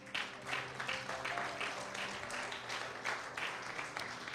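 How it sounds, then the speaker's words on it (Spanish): A church congregation applauds during a Spanish-language sermon: steady, moderately loud clapping from many hands, with faint sustained tones, likely organ or keyboard, beneath it. "Dale un aplauso al Señor."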